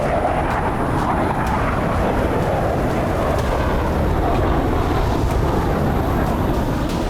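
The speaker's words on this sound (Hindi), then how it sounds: "बस ग्रीन सिग्नल मिलते ही एक के बाद एक कई विमानों ने टेक ऑफ किया।" F-16 fighter jets taking off one after another from an air base in Poland, heard as a loud, continuous, rumbling engine roar that holds steady throughout.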